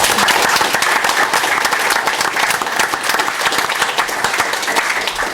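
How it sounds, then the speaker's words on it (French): A crowd breaks into loud, close applause, with dense overlapping claps and a few sharper individual hits, sustained at a steady level from start to finish. "On vous applaudit, bien sûr."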